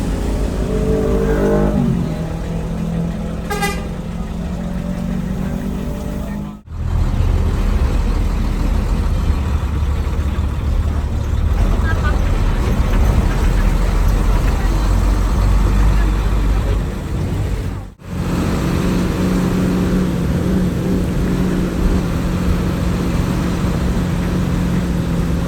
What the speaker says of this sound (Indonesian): bus dengan trayek Solo Purwodadi ini terkenal dengan kecepatannya